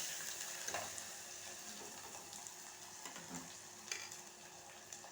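Meal maker (soya chunk) curry stirred and frying in a pan, a steady soft sizzle with scraping stir strokes and occasional clinks, moderately close and continuous throughout.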